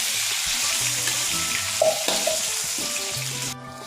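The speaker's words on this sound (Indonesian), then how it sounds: "Aduk dan tambahkan air panas secukupnya." Ground peanut sauce sizzles in a pan while being stirred, with hot water added, making a loud close hiss with scraping and bubbling that cuts off abruptly near the end.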